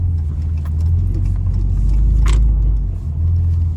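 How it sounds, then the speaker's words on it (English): A diesel truck engine runs steadily while driving, a loud continuous low rumble with a brief rise in intensity midway, heard alone without talk. "this truck is actually pretty smooth. Like, I mean, it is a diesel, so it's still pretty rough."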